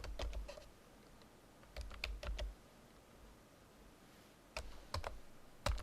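Quiet keyboard typing as a Linux command is entered, with short clusters of key clicks separated by pauses and a soft low hum underneath.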